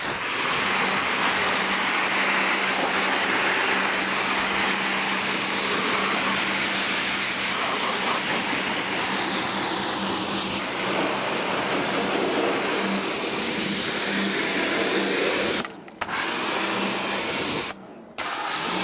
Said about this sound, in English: So we're going to rinse the TFR off.